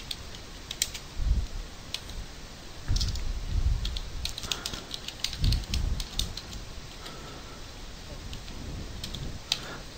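Typing on a computer keyboard, heard as quick, light key clicks in short irregular bursts over a faint background hum.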